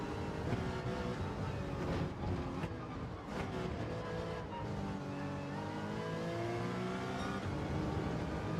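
Engine of an all-wheel drive race car in Gran Turismo on the Deep Forest circuit, a steady loud drone with rising and falling revs as it accelerates, shifts and passes.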